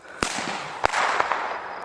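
A homemade firework cannon fires in a few sharp cracking bangs, followed by a crackling, hissing burst that fills the air for about a second, loud and close.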